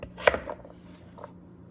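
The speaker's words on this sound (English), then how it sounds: "And then cut it the opposite direction into cubes." A knife chops butternut squash into cubes on a cutting board: one sharp, close knock followed by a few softer taps, then a faint final cut, with quiet between.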